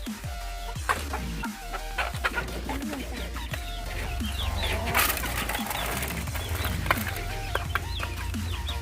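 Five hens, one with a cough, cluck and chatter close by, with scattered squawks and rustling over a steady background hum.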